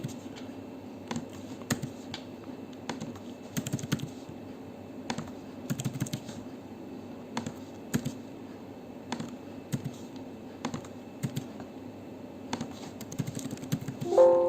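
Steady typing on a computer keyboard while tax invoice data is entered into e-Faktur software, with close, crisp keystroke clicks in irregular bursts throughout and no talk.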